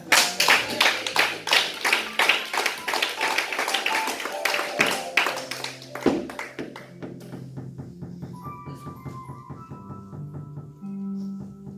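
A church congregation claps loudly in a quick, steady rhythm during a sermon, then the clapping thins into scattered claps while sustained musical tones rise underneath.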